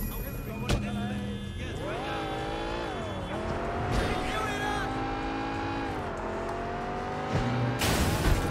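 A car in the game Sleeping Dogs drives with its engine note rising and falling through gear changes, with tire squeal and a few impacts, up close while people talk over it.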